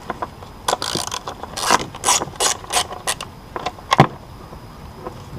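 A ratchet tool tightens a screw back into place during a boost gauge install on a Mini Cooper S R56, giving close, irregular bursts of clicking ratchet strokes.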